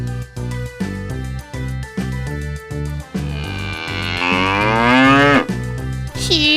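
Cartoon cow in an animated Kazakh folk tale gives several loud, drawn-out moos over light music, the longest stretching near the end.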